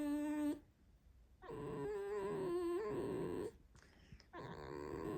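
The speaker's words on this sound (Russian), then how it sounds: "Вы слушали вечерний скрип лисы, который обозначает одно единственное слово, но повторенное много раз" A pet fox squeaks and whines in the evening in a series of drawn-out, wavering high-pitched calls separated by short pauses, close and fairly loud.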